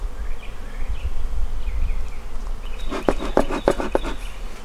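Honey bees hum steadily around an open hive during spring hive work, a dense low drone near the listener, joined late by a few quick rustling clicks.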